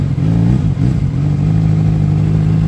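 A 2013 Kawasaki Z1000 motorcycle engine drones loud and close while being ridden, with the revs shifting briefly before holding a steady pitch.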